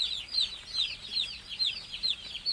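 Chicks in a heated poultry farm brooder peep steadily in a rapid, repeating chorus of high chirps, close and moderately loud, with no talking.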